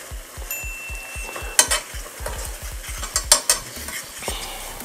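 Rum caramel sauce reducing in a pan while being stirred, a rapid rhythmic scraping of a utensil against the pan over a soft bubbling sizzle, with a few sharper clinks, close and fairly loud.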